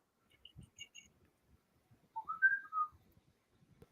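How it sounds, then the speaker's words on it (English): A human whistles softly, a few brief high chirps followed by a clearer rising-and-falling whistled phrase, faint and close, with no talking over it. "we heard the whistle."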